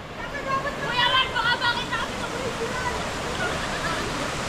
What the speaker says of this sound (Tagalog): hindi sila makatawid kasi binaha na kami. Inabot na kami ng baha